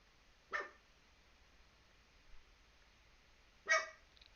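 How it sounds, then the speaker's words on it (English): Two distant barks from a dog, a few seconds apart, faint against a quiet background with no talking. "true to life as Gigi barking away."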